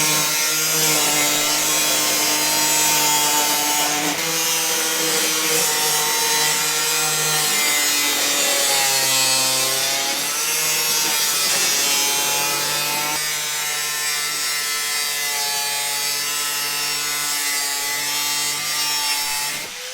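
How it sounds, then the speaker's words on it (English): An angle grinder cuts an opening in a quail brooder box lid, a loud, continuous close whine with shifting pitch that dips and climbs as the disc bites, running without a break and with no talk. "it's time to take the angle grinder and cut out that section of the lid"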